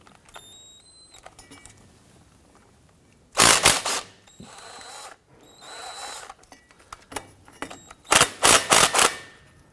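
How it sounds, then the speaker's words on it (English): Ratchet with an 11mm socket loosening drive shaft bolts on a 2006-2010 Hummer H3 3.7L, two close bursts of rapid clicking bursts separated by quieter handling noises. "Now we can use an 11mm socket to loosen and remove these bolts right here."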